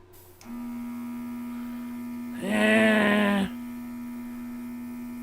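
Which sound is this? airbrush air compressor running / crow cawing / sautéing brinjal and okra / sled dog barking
airbrush air compressor running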